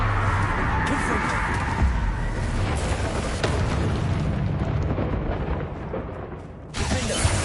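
Fiery spell explosions in the Hogwarts Legacy video game fill the scene with a loud, continuous roar and crackling bursts, dipping briefly before another blast near the end.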